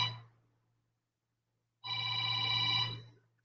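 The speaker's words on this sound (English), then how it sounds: "my phone ringing" A mobile phone ringtone sounds in two bursts, a brief tail at the start and then a clear ring of about a second after a silent gap, with a low steady hum underneath.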